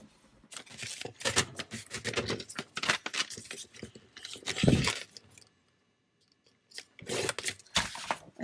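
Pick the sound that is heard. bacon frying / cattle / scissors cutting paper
scissors cutting paper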